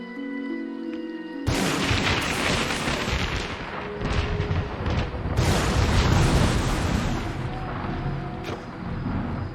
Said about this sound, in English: That was some fancy shooting.